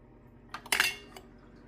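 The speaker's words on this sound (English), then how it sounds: "press the ice button and then it will dispense your ice for you" A countertop ice maker dispenses ice: a few hard clattering cubes drop in a short cluster, close but fairly quiet, over a low steady machine hum, with no talking.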